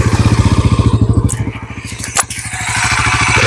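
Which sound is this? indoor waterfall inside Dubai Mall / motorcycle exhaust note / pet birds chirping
motorcycle exhaust note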